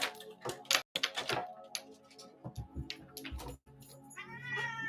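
A cat meows and caterwauls repeatedly in a home during a squabble with a dog, loud close yowls in uneven bursts with brief gaps between them.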